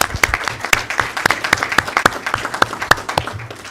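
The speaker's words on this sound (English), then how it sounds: "round of applause for Liam and Kat." Applause for two student advisory group presenters at a school board meeting: a small group clapping in a quick, uneven patter of distinct hand claps, close and steady, with no talk.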